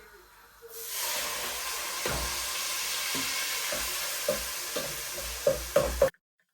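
Tomatoes tipped into a hot pan for paneer bhurji, setting off a loud, steady hiss and sizzle, with the spoon scraping and knocking against the pan several times before the sound cuts off abruptly.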